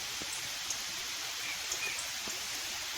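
Rain falls outdoors beside a home garage where auto body work is under way, a soft, even hiss with a few faint drips and taps on nearby surfaces, quiet and continuous with no talk.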